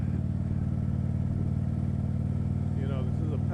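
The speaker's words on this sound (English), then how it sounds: "this is a patented engine design on Harley's part, this 45-degree V-twin. It is what makes a Harley a Harley. That sound, that lumpy idle" A Harley-Davidson 45-degree V-twin motorcycle engine idles with a steady, lumpy low throb, close and constant throughout, with a brief voice near the end.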